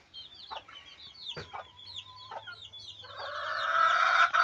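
Chickens from a backyard flock, a hen and her grown offspring, cluck in quick repeated calls close by, with a steadier chorus of clucking building louder toward the end.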